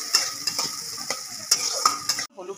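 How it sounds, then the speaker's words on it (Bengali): Egg, onion and garlic fry together in a pan, a bright sizzle punctuated by repeated scraping stirs of a spatula, cutting off abruptly near the end; no talking. "আমি ডিম, পেঁয়াজ, রসুনটা একটু ভাজা ভাজা করে নিচ্ছি।"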